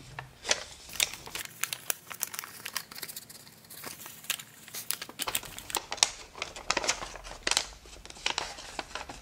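Close, crisp paper crinkles and creases come in irregular bursts as a paper Christmas star is folded and its mountain folds are pressed firm.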